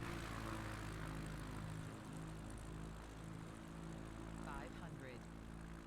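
A light propeller airplane engine during a touch-and-go landing in São Paulo, a steady droning hum heard from inside the cabin, continuous and fairly close, with people talking over it.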